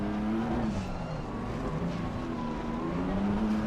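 Steady, loud engine drone of a McLaren race car in Assetto Corsa Competizione, holding a smooth high-revving tone with gentle pitch rises and falls throughout, with no talk over it.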